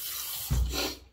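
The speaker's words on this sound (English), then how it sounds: "All right, first pass done, we'll rinse the face." A bathroom tap runs briefly as water rinses a face after a shave, a short close splash and gush that swells in the middle and cuts off quickly.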